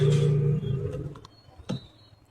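A female Silver Lahore pigeon gives a soft, close coo near the start, followed by a few faint rustles and a brief scuffing sound, otherwise quiet.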